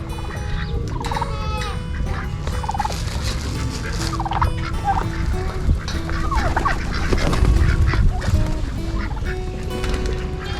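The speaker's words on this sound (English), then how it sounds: "There's turkeys." Turkeys gobble loudly and repeatedly at a dairy farm petting zoo in San Elizario, Texas, their rattling calls overlapping with honking geese amid a busy animal pen.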